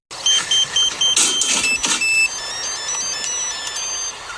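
An old-style mobile phone text message or call alert tone plays as a loud, repeating electronic beeping melody in short bursts, followed by a steadier tonal hum with background noise.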